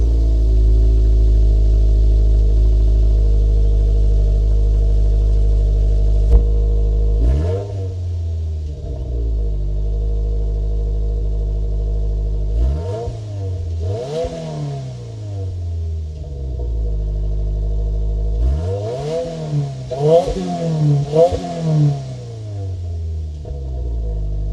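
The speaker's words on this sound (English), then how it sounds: "Exhaust sounds good. We'll cut to an exhaust clip right now." A Subaru WRX TS idles with a deep, loud exhaust rumble, then blips the throttle in sharp revs that rise and fall, repeating several times.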